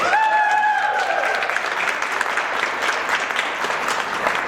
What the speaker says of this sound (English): let's give Savannah a round of applause